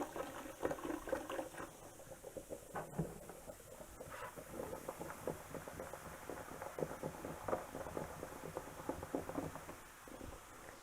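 Faint, crackling fizz of drain cleaner reacting inside sink plumbing pipes, a continuous bubbling hiss with scattered small pops and clicks, quiet and close, no talk.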